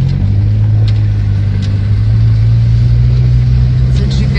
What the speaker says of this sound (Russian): Це джип який-то розвернув.